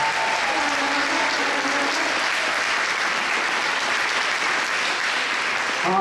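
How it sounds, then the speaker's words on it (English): An audience at a high school marching band event applauds steadily throughout, a dense, even wash of clapping that starts with a faint voice underneath and stays loud and close to the end. "can we give a round of applause to Mr. Taylor?"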